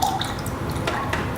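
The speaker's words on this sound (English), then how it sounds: "So I'm adding the rest of my water into my" Water trickles and splashes steadily into a cup of tea for kombucha, a continuous close pouring sound with faint dripping.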